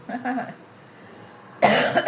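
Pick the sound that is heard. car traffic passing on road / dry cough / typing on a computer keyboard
dry cough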